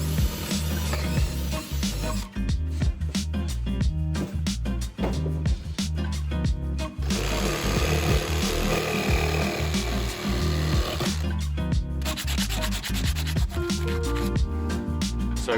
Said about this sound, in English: So I'm just gonna drill my hole in the corner of this thing just like you would like a jigsaw or something like that, but then I'll cut it out with a sawzall.